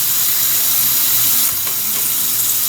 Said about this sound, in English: Give everything a quick rinse,